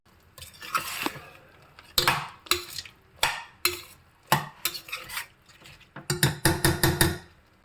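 Masala and vegetables for a veg pulao are stirred and fried in a pan, with repeated scraping strokes and clinks of a spoon against metal over a soft sizzle, the strokes growing quicker and denser toward the end.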